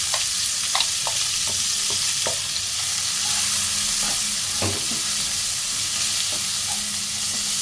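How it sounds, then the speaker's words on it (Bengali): Onions fry in oil in a pan with a steady, loud sizzle throughout, broken by occasional spatula clicks and scrapes as they are stirred, and no one speaks. "পেঁয়াজটাকে একটু ভেজে নেব"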